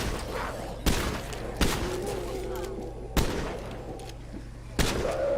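Shotgun blasts against armored zombies in State of Decay 2, four loud booming shots spaced a second or more apart over a steady game background.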